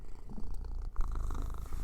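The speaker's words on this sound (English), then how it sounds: "My cat is being really clingy right now, so you can probably hear him purring." A cat purrs close up in a low, continuous rumble, with a brief rustle partway through.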